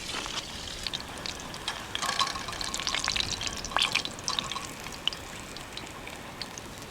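Battered fish fries in hot oil in a back-country cookout, a continuous crackling sizzle with scattered sharper pops, steady and moderately quiet, with no talking.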